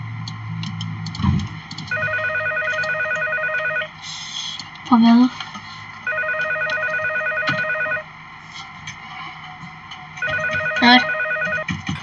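A phone call rings in repeated electronic bursts, three long ringing stretches with short pauses between, while a person speaks briefly during the gaps.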